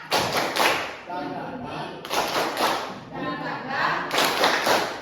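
A school class does tepuk semangat, a rhythmic spirit clap, during a biology lesson; loud group clapping arrives in patterned bursts with short pauses between, close and echoing in the classroom.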